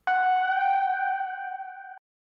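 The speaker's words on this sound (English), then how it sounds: "you hear all that reverb" A music sample drenched in heavy reverb rings out alone as a sustained two-note tone with bright overtones, holding steady for about two seconds before cutting off abruptly.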